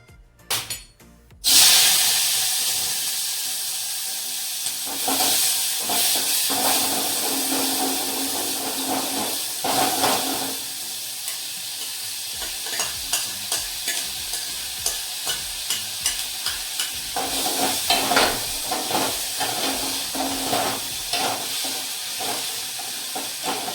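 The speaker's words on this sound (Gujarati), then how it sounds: "ઓઇલ ગરમ થઈ જાય પછી આ આપણે સુધાર્યું છે ડુંગળી, ટામેટું, મરચું, એ આપણે આમાં નાખી દેશું" Chopped onion, tomato and chili sizzle and hiss loudly in hot oil, with steady frying crackle and intermittent stirring scrapes throughout, close up and without talk.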